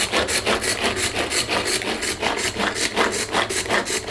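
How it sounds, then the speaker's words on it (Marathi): Ginger and garlic get minced in a hand-pulled kitchen chopper, a fast, regular rasping whirr repeating roughly every quarter second, close and steady throughout with no talking. "त्या चॉपरमध्ये तुम्ही असा अद्रक लसूण टाकायचा आणि असं पूर्ण बारीक होईपर्यंत व्यवस्थित कापून घ्यायचं"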